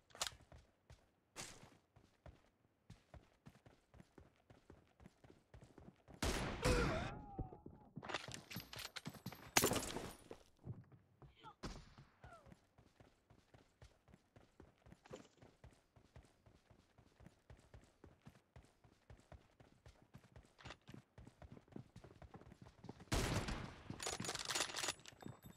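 Gunfire rings out in a PUBG Mobile team deathmatch, a long run of sharp shots in quick bursts, with several louder, denser volleys standing out over quieter scattered fire and footsteps.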